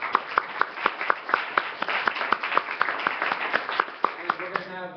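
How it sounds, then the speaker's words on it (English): Rhythmic unison clapping from an assembly audience saluting club leaders, sharp evenly spaced claps about four per second, slightly loosening toward the end, with voices murmuring beneath. "So let's give all the club leaders one big round of applause."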